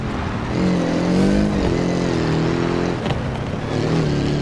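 An off-road vehicle engine in the BeamNG driving game drones steadily as it slowly accelerates, with tone shifts suggesting gear changes, loud and continuous with no talk.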